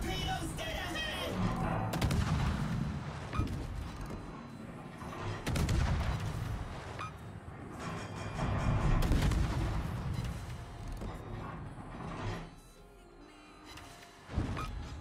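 Naval gunfire in a warship video game, heavy cannon salvos booming in several deep, rumbling blasts with a loud thud near the end, and faint voices between.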